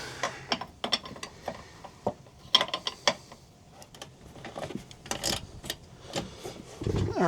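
Ratchet fitted with a 16mm socket loosening the bolts on a diesel fuel tank, giving scattered bursts of close mechanical clicking and clatter with pauses between, and no talking.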